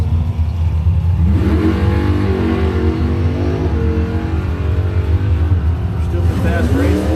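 Doorslammer drag cars, a Mustang and a Buick, roar down the strip at a Blue Oval Battle qualifying run, a loud continuous engine rumble with an announcer talking excitedly over it.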